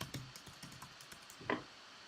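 A password is tapped out on a computer keyboard, a quiet, close run of irregular key clicks with one sharper keystroke near the end.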